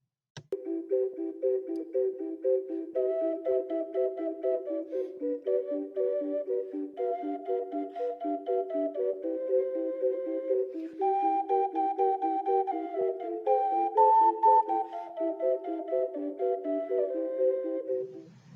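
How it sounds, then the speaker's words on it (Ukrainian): A clay ocarina plays a clear, bird-like melody of short breathy notes stepping up and down in gentle phrases, solo and close, with no voices. "Окарна це інструмент з фантастичним звучанням, що схожий на спів пташок та голоси диких тварин"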